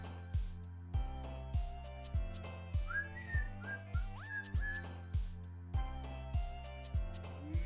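A person whistles a short, wavering, sliding tune partway through, over steady rhythmic background music with a regular thumping beat, during play of the game Doki Doki Literature Club.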